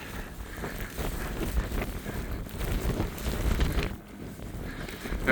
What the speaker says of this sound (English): Just try to get out of the wind a little bit.